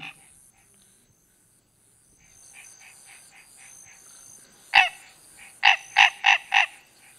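Frogs calling in a marsh at Rémire-Montjoly, French Guiana, a faint pulsing chorus building up and then several loud, sharp croaks in a quick series near the end.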